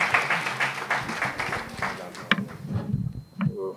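Audience applause at a ceremony welcoming new baccalaureate graduates, clapping strongest at the start and thinning out, mixed with murmuring voices and a few louder isolated claps near the end.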